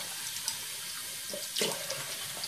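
Tap water runs steadily into a sink while paint brushes are rinsed, a constant close splashing hiss with a brief stronger gush partway through and no talking.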